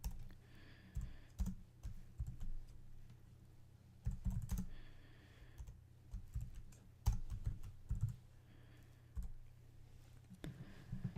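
Typing on a computer keyboard while writing code, with bursts of quick key clicks separated by short pauses; close and fairly soft, with no talking.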